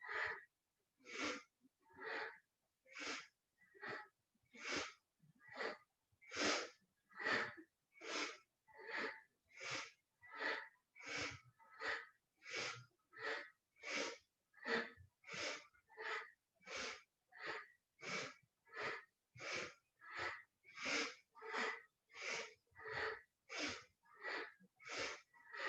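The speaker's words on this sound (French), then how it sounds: "Inspire à droite, expire à gauche." Alternate nostril breathing in a yoga class, breathing in through one nostril and out through the other, gives a long run of quick, regular, close-up breaths through the nose, evenly spaced and fairly quiet, with no voices.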